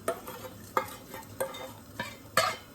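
Melted butter being mixed into honey and soda batter for a honey cake, with five or six soft, wet sloshing strokes at an even pace, close and quiet, without any voices.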